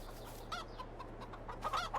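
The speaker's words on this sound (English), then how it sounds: "we might as well have a little look at the chickens" Chickens cluck in the Farming Simulator 22 farming game, with several short clucks rising and falling over a steady low hum of game ambience, with no talking.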